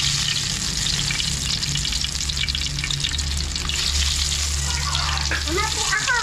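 Chicken frying in hot oil gives a steady close sizzle and crackle throughout, with a low background hum and a voice briefly heard near the end.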